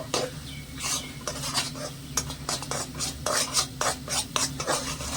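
A milk-powder and sugar sweet with chopped pistachios and almonds is stirred in a pan: rhythmic scraping and clinking of a spoon against metal over a faint sizzle, close and continuous, no one speaking.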